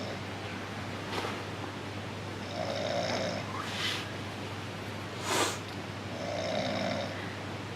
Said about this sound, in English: I've just had to describe your snoring.